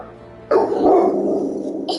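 A dog barks in the video game Final Fantasy XVI, a loud close burst of barking lasting over a second, then a brief second yelp at the end.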